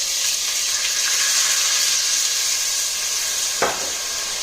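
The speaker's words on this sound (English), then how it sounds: "I'm gonna deglaze this now." Dry white wine hits a hot pan for deglazing, giving a strong steady sizzle and hiss up close, with a brief clink partway through and no voices.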